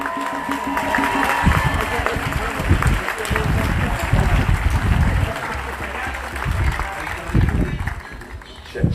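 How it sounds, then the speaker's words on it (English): Outdoor crowd at a Black Lives Matter 757 rally at Fort Monroe applauding and cheering, a steady dense wash of clapping with shouts rising over it, loud and continuous throughout. "Clap it up some more."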